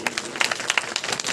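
Brief, lively clapping from a crowd at a Bhagwat Katha religious gathering in Mundka, Delhi. Separate claps land in a quick uneven patter, fairly close and loud, with no voices heard.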